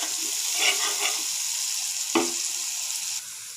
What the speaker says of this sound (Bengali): এখন আমি মশলা কষাই নিচ্ছি